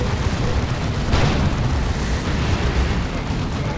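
A Melta bomb explosion in the real-time strategy game Dawn of War 2 during a 3v3 Warhammer 40,000 match, heard as a dense, loud, rumbling blast within continuous battle noise, with a brighter burst a little past the first second.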